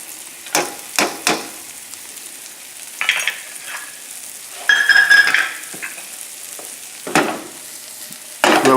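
Mushrooms and onions frying in a pan over a relatively high flame, a steady hiss broken by several short scraping stirs, close and fairly loud with no talking.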